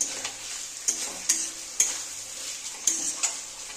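Vegetables fry in a pan for a paneer and potato curry with a constant sizzle, broken by several sharp clinks and scrapes as a spoon stirs them every half second or so.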